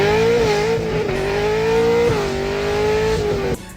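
A 2008 sports car's 7-liter 427 V8 revs hard and loud, its dense harmonic roar climbing and holding high with small pitch dips, then cutting off abruptly near the end.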